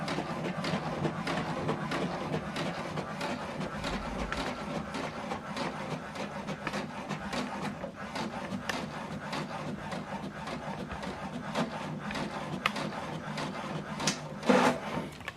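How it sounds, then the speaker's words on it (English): An HP Deskjet printer prints a scanned document, a continuous close rattling, scraping mechanism with rhythmic clicks as paper feeds through, steady throughout with a brief louder clunk near the end. "So the second one is printing."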